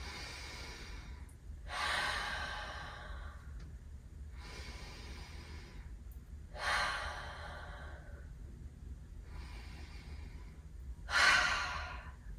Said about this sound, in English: breathing in through the nose and breathing out through the mouth